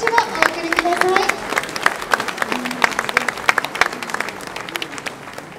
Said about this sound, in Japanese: 温かい温かい拍手をお送りください。